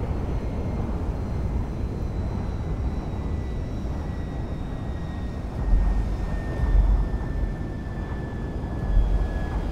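Steady droning airplane engine in the GTA 5 video game, a continuous broadband roar with a faint high whine, holding level throughout with a few low thumps near the end.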